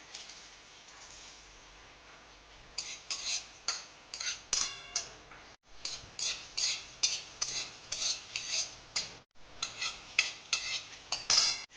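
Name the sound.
dry spices and red chillies stirred while dry-roasting in a wok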